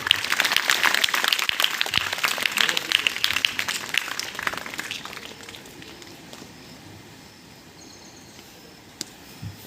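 An audience at a school Independence Day programme claps in a dense, steady patter for several seconds before it thins and fades into quiet room noise.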